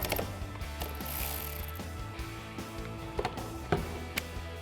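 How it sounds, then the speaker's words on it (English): Hand ratchet with a 10mm socket loosening nuts off studs while removing headlights on a 2015-2017 Ford F-150, a rapid, continuous metallic clicking close up with a few sharper clanks. "we're gonna grab our ratchet, our 10mm socket, and loosen these nuts off the studs"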